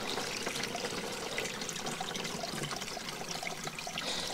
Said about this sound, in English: This is the culvert pipe under our gate.